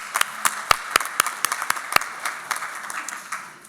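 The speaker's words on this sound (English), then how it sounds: "So another round of applause for the Boulder Rotary Club." Sparse applause from a Boulder Rotary Club meeting audience: distinct individual claps in an irregular patter, fairly close, tapering off toward the end with no talk over it.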